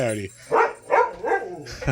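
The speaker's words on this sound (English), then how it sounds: "Trying to keep the dog from running out of the house." A dog barks indoors at a house, giving three or four short, loud yaps in quick succession, mixed with a voice speaking nearby.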